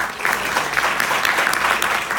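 An audience at a book presentation gives a presenter strong applause, a close, loud, continuous burst of many clapping hands filling the room.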